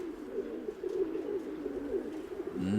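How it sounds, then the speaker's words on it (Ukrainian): Agitated pigeons coo in a steady, continuous low rumble close by, with a slightly louder flurry near the end. "Бачу, що голуби оці хвилюються."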